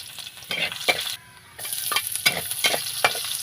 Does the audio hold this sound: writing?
no